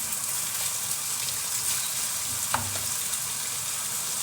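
A filling fries in butter and a little oil, sending out a steady, close sizzle with one brief clink partway through and no voices.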